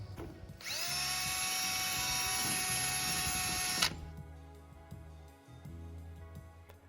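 A drill whines into motion, a wire wheel brush grinding steadily on exhaust headers for about three seconds before cutting off abruptly, followed by faint thumps and background hum.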